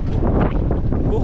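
Steady wind roars against the microphone outdoors, a dense unbroken rush for the whole moment, with voices talking over it.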